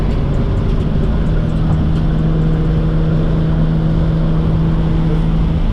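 Turbocharged S50 engine in a BMW E36 M3 droning steadily from inside the cabin on the road, a continuous loud low hum with a sustained tone and no talk.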